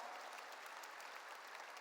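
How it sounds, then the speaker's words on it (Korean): Church congregation applauding, a short even burst of many hands clapping at a distance, fairly faint and uniform throughout. "깨달은 사람만 박수"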